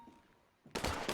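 A gunshot fires in the GTA V NoPixel roleplay game, a sudden loud burst after near silence, followed by a brief echoing rumble.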